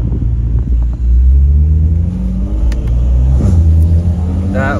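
A BMW M8 Grand Coupe drives past on a Miami street, a loud deep engine rumble with shifting rev tones as it goes by, a person speaking over it.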